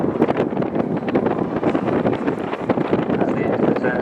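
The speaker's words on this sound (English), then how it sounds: "here throughout the display is the uprated guaranteed turboprop engine fitted to the RAF Tucano by Shorts in Belfast" An RAF Shorts Tucano T1 with an uprated turboprop engine flies an airshow display, its loud, rough engine roar continuous throughout, mixed with heavy wind buffeting on the microphone.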